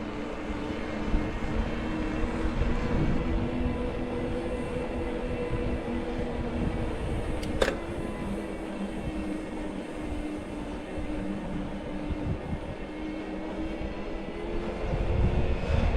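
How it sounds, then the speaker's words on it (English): The 500-watt mid-drive electric motor of a Magnum Vertex hardtail trail e-bike hums steadily under rolling tire and wind noise during a trail ride, with one brief sharp click midway and no talking. "I'll kind of shut up now so you can listen to the motor yourself."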